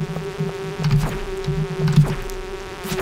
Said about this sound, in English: Yep, there's too many bees.